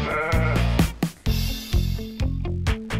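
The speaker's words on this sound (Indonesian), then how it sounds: "Kita akan turun ke bawah, lihat ke kandang kambing." Goats in a goat pen bleating loudly and close by, several overlapping wavering calls one after another.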